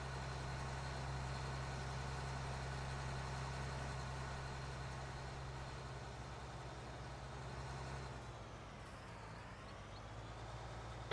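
Tractor engine in Farming Simulator 19, droning steadily at a constant pitch with no clear rise in revs, a low, even mechanical hum held for the whole stretch.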